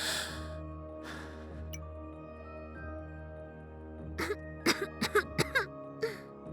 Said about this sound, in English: I try to take a breath but I choke on thin air and spiral into a coughing fit